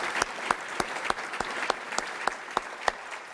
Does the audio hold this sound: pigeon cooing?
no